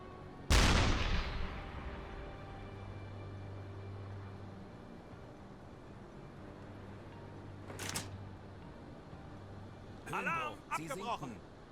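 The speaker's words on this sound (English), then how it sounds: "a couple of shots here should be more than enough to finish this county class off" A U-boat deck gun shelling a County-class cruiser in the submarine game UBOAT: one loud booming shot early, later a sharper report and a burst of crackling impacts, over a low rumble with someone talking.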